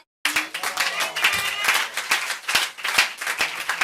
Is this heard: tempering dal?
no